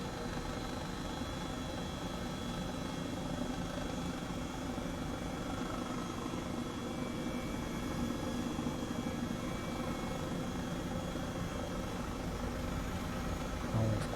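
A helicopter flies in Microsoft Flight Simulator 2020, its engine and rotor producing a continuous, even drone with a steady low throbbing pulse, moderately quiet and unchanging throughout.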